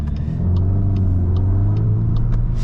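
A VW Golf R MK8.5 Black Edition runs with its exhaust valves open, giving a loud, steady, deep engine drone with a constant low hum and a few faint ticks above, alone without talk.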